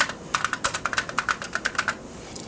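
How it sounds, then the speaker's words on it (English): Rapid keystrokes clatter on a computer keyboard as a command is typed, around a dozen close, crisp taps in an even quick rhythm over a soft background hum. "So we type the command turpentine and then the Gaggle file name."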